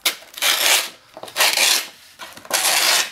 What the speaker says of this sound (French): une lime, c'est encore mieux, une lime ça use bien les bords